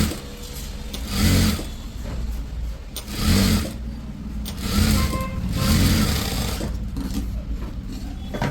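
A sewing machine stitches a blouse in short bursts, its motor whirring up several times with pauses of quieter hum between runs, close and fairly loud.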